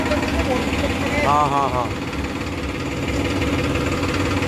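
A Farmtrac 45 tractor with oil brakes and power steering idles close by in a steady, rumbling, low drone, with a short word spoken briefly over it.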